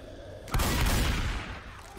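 Gunfire in the zombie shooter Left 4 Dead 2: a single loud, close burst starts abruptly and its rumbling blast tails off slowly over the next second and a half, with no talking.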